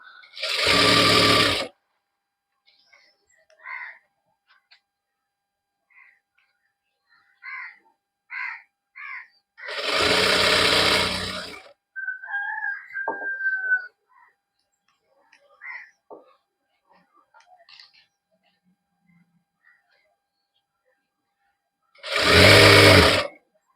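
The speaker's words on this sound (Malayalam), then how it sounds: "നമ്മൾ സ്റ്റിച്ച് ചെയ്ത് കഴിഞ്ഞു ഇവിടെ എത്തിയപ്പോഴേക്ക് നമ്മുടെ ഇലാസ്റ്റിക് കഴിഞ്ഞിട്ടുണ്ട്" A sewing machine stitches elastic onto fabric in three short, loud bursts of whirring, each about a second and a half long. Long quiet gaps separate them, holding only faint small handling sounds.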